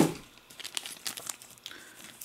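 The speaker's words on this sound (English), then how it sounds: "Now we'll get rid of the box, what's left of it." Cardboard packaging from a set of padlocks is torn and crumpled by hand, a quiet close run of crinkling and ripping bursts with no talk.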